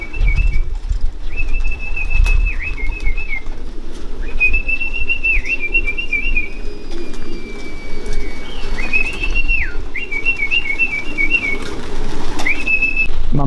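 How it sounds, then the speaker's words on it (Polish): Racing pigeons arriving home from a race flown from Vetschau call with repeated whistling coos and faint wing sounds, set against steady outdoor background noise. "Mamy kolejnego gołębia, który przyleciał"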